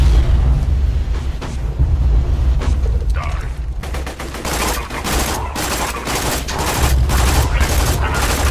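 An explosive can blows up in Borderlands 2, followed by a dense run of loud, rapid mechanical clatter and gunfire-like bursts that fill most of the clip.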